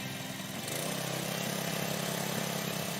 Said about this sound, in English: Start the engine and move the throttle lever to the fast position.